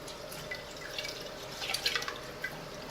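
Rinse water drips and trickles from an upturned glass jar of broccoli seeds, a soft, steady patter of small drops close by with a few slightly louder splashes, no voices.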